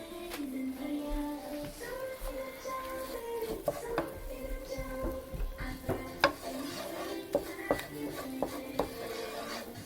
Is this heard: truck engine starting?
no